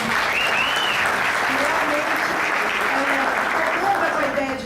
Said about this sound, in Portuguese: peço outra salva de palmas